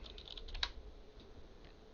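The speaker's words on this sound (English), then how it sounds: "Let's just type in cookware." Fingers typing a short search on a computer keyboard, a brief run of soft, close key clicks in a quiet room.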